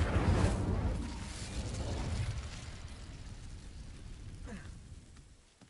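A fire spell cast in Hogwarts Legacy gives a burst of whooshing, crackling flame that swells and then fades over several seconds.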